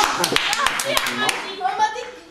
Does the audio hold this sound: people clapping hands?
yes